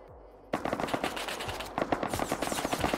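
Rapid automatic gunfire in the survival game Rust, loud and near, with dense bursts of shots rattling in quick rhythm, a brief lull, then another sustained volley.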